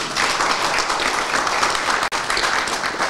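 Audience applause at a New Year's Eve countdown show in Villa Collemandina, a steady, dense crowd clapping that fills the whole stretch at even loudness, with one brief dip near the end.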